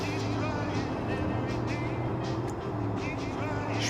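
Car driving and sliding in the video game Far Cry 5, a continuous engine hum and road noise under excited talking by a man.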